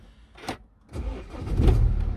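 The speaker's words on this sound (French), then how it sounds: "il me dit de mettre le moteur en marche" A BMW 1 Series car engine is started from inside the cabin: a short starter whir, a pause, then the engine catches and settles into a rising, steady rumble, close and fairly loud.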